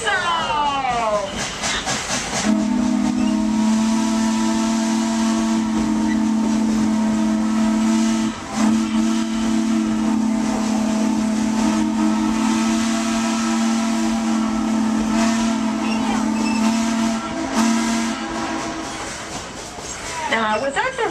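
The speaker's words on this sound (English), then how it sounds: "Please blow your whistle for us." A steam locomotive on a Dollywood train ride sounds a long, loud whistle that holds for well over ten seconds. Steam hisses around it, and a voice speaks briefly before the whistle starts.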